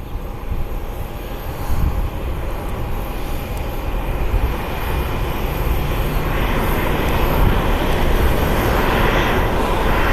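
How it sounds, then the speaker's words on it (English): Steady engine roar from a Southwest Boeing 737 jet rolling out after landing from Houston at Columbus airport, a loud, continuous broadband rumble with a faint whine, heard alone with no talk. "Got a Southwest Flight 976. Just touched down from Houston Hobby."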